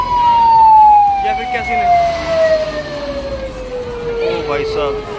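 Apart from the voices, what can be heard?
ambulance siren passing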